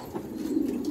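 A Kashmiri pigeon coos close by, a single low, soft, rolling coo that lasts the whole brief moment, with no talk over it.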